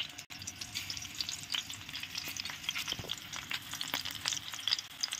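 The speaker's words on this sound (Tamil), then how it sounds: "மீடியம் ஃப்ளேம் வச்சு அப்படியே வறுத்தெடுத்துக்கலாம்" Chicken kofta balls frying in oil over a medium flame, a soft, continuous sizzle with light spatters and occasional scraping stirs, fairly quiet and close, with no voices.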